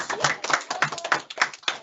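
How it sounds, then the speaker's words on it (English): A burst of hand clapping from a group of schoolchildren at a school assembly, dense and lively, with voices mixed in underneath. "Give yourselves, all of you, a big round of applause"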